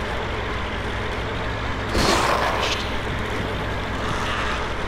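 A truck drives in the zombie video game Dead Island, a steady low engine drone with a sharp hissing burst near the middle before the rumble carries on.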